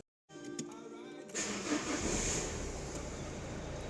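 A Renault Clio 2 1.5 dCi diesel engine turns over and catches after a brief silence, then settles into a steady idle clatter that stays fairly quiet.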